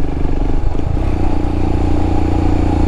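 A motorcycle rides along a road on a Manila to Bicol trip, its engine a steady, loud drone with a slight rise and some rattling clatter.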